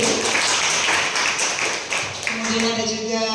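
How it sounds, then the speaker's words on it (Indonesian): Applause from an audience at a school dissemination event, a brief burst of clapping with a voice speaking over it. "Kita beri tepuk tangan dulu."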